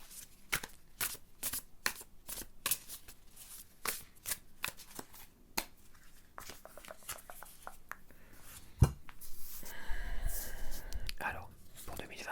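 Tarot cards being shuffled for a reading, soft close riffles and flicks in an irregular rhythm, with quiet whispered talk and some rustling toward the end.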